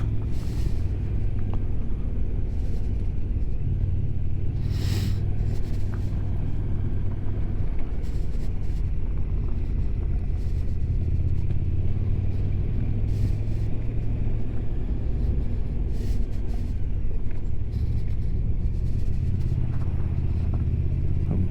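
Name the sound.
big V-twin motorcycle riding over gravel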